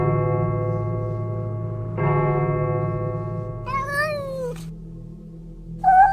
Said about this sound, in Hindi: बिल्ली जैसी चीख